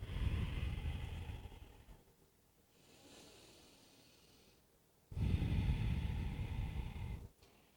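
Slow, deep breathing in a yoga forward fold: a long, loud, airy exhale, a quiet pause with a soft inhale, then another strong close exhale, all heard alone without talk.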